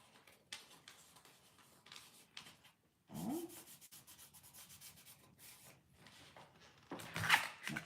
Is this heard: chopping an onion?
no